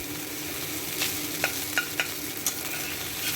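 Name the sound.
slowly frying flattened rice for chira pulao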